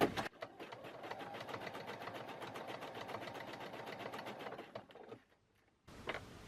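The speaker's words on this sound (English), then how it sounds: "Right, so I'm going to carry on zigzag stitching." A sewing machine runs steadily, zigzag stitching coiled rope into a bowl, a fast rhythmic needle patter for about five seconds before stopping, then a brief quieter restart.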